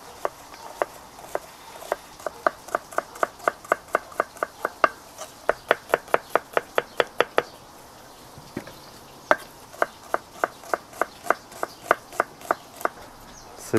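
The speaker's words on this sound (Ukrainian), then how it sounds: "а ми швиденько нарізаємо цибульку." A knife chops onion on a cutting board in quick, regular taps, close and crisp, in several runs with brief pauses, while meat fries faintly in the background during outdoor cauldron cooking.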